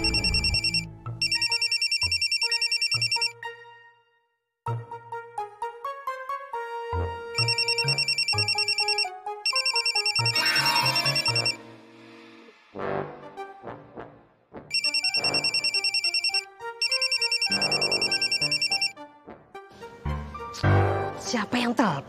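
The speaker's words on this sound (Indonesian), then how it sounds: "Siapa yang telepon sih?" Telephone ringing indoors in a household setting: repeated bursts of a bright electronic ringtone, each lasting a couple of seconds and separated by short pauses, loud and close, with other household sounds heard between the rings.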